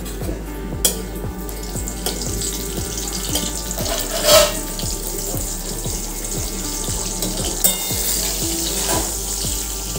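Slices of pointed gourd fry in a pan with a continuous moderate sizzle and bubbling, while a low rhythmic ticking mechanical noise repeats steadily underneath and a couple of brief louder clatters break through.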